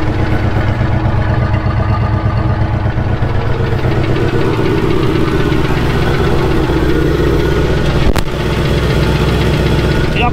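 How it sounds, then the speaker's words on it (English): A Chevrolet C10 truck engine idles close by, loud and constant, with a rhythmic knocking rattle and the puffing of an exhaust leak running throughout, plus one sharp click near the end. "Y'all can probably hear the exhaust leak. It's got a rattle in the little motor."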